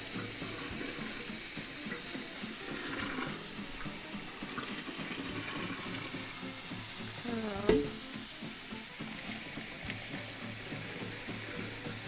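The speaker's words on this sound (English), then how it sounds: "Just draining off my pasta right now." Pasta water being drained in a home kitchen, a steady rushing pour of water into a sink that runs continuously, with a brief clatter near the end and no talking.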